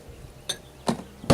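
Three separate clinks ring out as big ice cubes drop into a Glencairn whisky glass of Suntory Royal Japanese whisky, each sharper and louder than the last, close and alone without talking.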